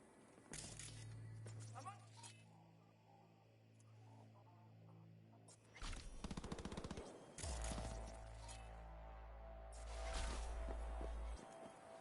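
Bursts of rapid automatic gunfire in a video game, loud, in clusters with brief pauses between, over a low engine-like hum and occasional clatter.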